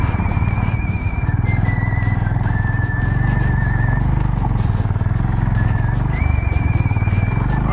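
Motorcycles of touring bikers from West Bengal passing close on a mountain road in Nepal, a loud continuous engine drone throughout with the pitch shifting as they go by.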